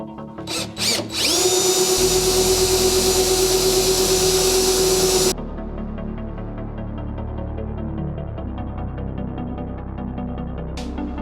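A spot weld remover bites into welds on a Porsche 911 floor, a loud high-pitched drill whine that spins up after a couple of short bursts, runs steadily for a few seconds, then stops, leaving a low hum and faint scraping.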